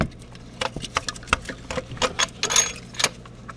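Steel bolts handled and threaded in by hand during a starter motor replacement on a Volkswagen or Audi transverse engine, giving sharp metallic clicks and small clinks in an irregular rhythm, close and fairly loud.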